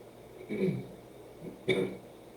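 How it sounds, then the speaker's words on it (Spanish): A couple of muffled coughs from one person, a soft one followed by a sharper one a second later. "perdón por la tos"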